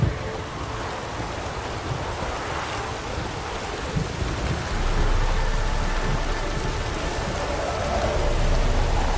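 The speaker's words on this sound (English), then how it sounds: "The storm, damn it." A thunderstorm's steady heavy rain hisses throughout, with a low rumbling swell building in the second half, loud and close with no talking.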